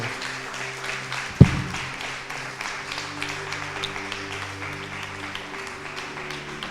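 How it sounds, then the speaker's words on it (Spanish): Church congregation on Resurrection Sunday gives a strong round of applause to the Lord, a continuous mid-level wash of many hands clapping with one sharp bump early on and faint voices underneath. "dale un fuerte aplauso al Señor en esta hora"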